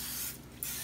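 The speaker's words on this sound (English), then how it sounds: "you want to spray some more oil" A short hiss of cooking oil spray coats a deep-dish pizza pan for Chicago-style pizza, one brief close burst with no talking.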